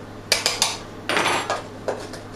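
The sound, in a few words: stirring clumping homemade raw peanut butter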